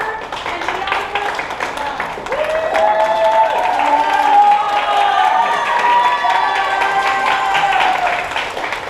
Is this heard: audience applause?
yes